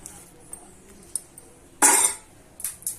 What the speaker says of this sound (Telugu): కరివేపాకు కొత్తిమీర వేసుకొని బాగా ఒకసారి కలుపుకొని